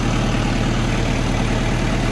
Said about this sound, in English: You can hear the engine pull down a little bit